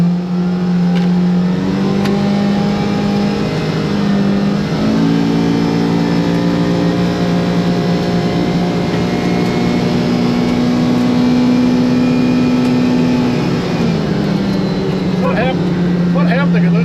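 A Kawasaki Ridge side-by-side UTV drives along with a loud, steady engine drone whose pitch rises and dips as it speeds up and eases off, close by, with voices talking over it.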